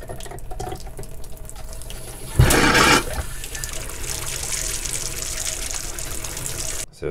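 Household tap opened after the air is bled from the lines, a sudden loud gush and splutter bursting out, then settling into a steady stream of water running into a sink for several seconds before cutting off.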